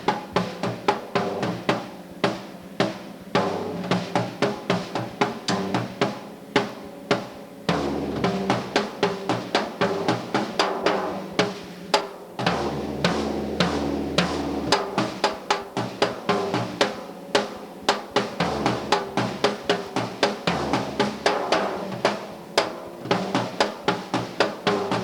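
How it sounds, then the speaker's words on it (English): A drummer plays the bacateo rhythm of Cuban danzón on drums, a steady, repeating pattern of crisp strikes that runs on without a break, played close and clear with no talking. "I don't know if you could get the idea if I just play more or less what they call the bacateo."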